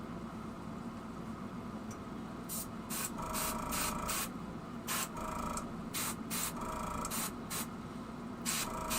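Short bursts of spray paint hiss on shallow-diving ultralight fishing lures, about a dozen quick pulses in an irregular rhythm, close and fairly loud over steady background hum.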